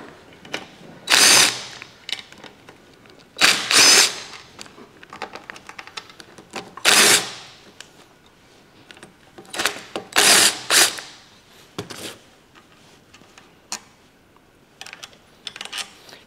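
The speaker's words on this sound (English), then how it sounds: "So let's run these off, these bolts here, off right here, and take this cover off." Bolts being run off the engine cover of a 1956 rototiller with a power driver, heard as short loud whirring bursts in a loose sequence, separated by quiet pauses with small clinks and handling noises.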